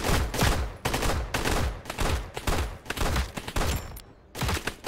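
Rapid pistol shots crack in close, loud bursts during a round of the video game Blackhawk Rescue Mission 5, several volleys fired in quick succession with short gaps between them.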